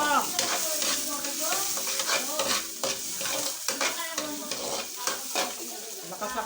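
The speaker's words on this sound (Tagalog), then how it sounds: "Mag-gisa-gisa tayo ng bawang." Garlic sautéing in a pan over high heat, with a steady sizzle and repeated scraping and clinking of a ladle stirring against the pan, close and fairly loud throughout.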